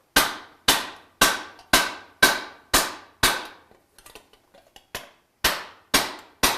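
Metal hammered over a stake in a metalworking studio: about ten sharp, ringing strikes at a steady close rhythm, a short break filled with faint light taps, then three more firm blows.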